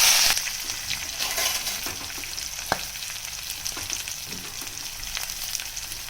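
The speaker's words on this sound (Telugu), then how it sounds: "జీలకర్ర వేగాక పచ్చిమిర్చి, కరివేపాకు, ఉల్లిపాయలు వేసేసి గోల్డెన్ కలర్ వచ్చేదాకా వేయించుకుందాం." Green chillies, curry leaves and onions frying in hot oil after cumin seeds, a close, steady sizzle with occasional stirring scrapes and one sharp clink, loudest at the start and then settling into an even crackle.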